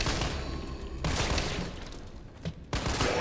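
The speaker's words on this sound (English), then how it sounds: "How many shots to the dome with a 9mm does it take?" Gunfire from a 9mm pistol in the video game Resident Evil 3, with loud broadband bursts at irregular intervals and a sharp shot near the end, over a dense, busy game soundscape.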